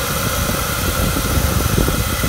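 Van engine idling steadily with an alternator and fan cooling setup, a close, continuous low rumble and broadband hiss with no talking.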